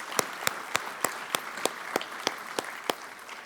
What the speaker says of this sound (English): And one more round of applause for Holly Anderson